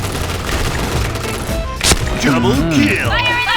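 Gunfire in a shooter video game, with a DSR-1 sniper rifle in play, comes as a sharp shot with a burst of fire under a noisy mix of game sound, while a person talks over it.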